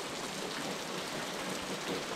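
Steady rain falls at night in an even, continuous hiss with no break, close and moderately loud, with no voices or other sounds.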